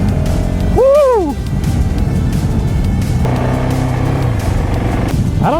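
A 2023 GasGas SM 700 single-cylinder supermoto is ridden in Kansas, its engine droning steadily up close with a sharp rev that rises and falls near the one-second mark and another climbing at the end, with wind noise throughout.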